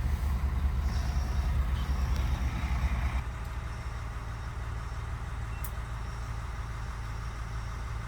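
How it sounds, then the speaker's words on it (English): A steady diesel wing engine with wet exhaust idles aboard a Nordhavn 57 motor yacht, a low, constant rumble, slightly louder for the first few seconds, with no voices. "it's a wet exhaust on the wing engine"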